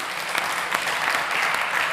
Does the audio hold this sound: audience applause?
yes